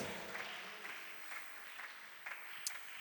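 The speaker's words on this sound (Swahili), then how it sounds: "pigie tena Yesu makofi" A church congregation at a Lutheran seminar claps in a soft, scattered burst, fairly distant and faint, with a few sharper claps standing out.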